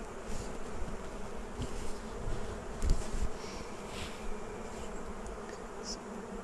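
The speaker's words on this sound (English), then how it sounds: "just shake the bees into the hive" Honey bees buzz around an open hive frame, a dense, steady hum of many insects close by with individual bees droning past and a few soft knocks.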